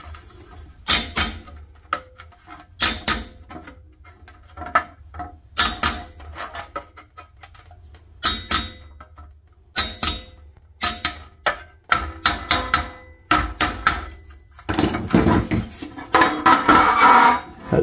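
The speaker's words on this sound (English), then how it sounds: "Needs a bigger hammer." A hammer strikes the pressed-steel body of a Tonka COE flatbed toy truck held against a dolly, producing sharp metallic clanks in irregular bursts and rapid runs of blows, close and loud.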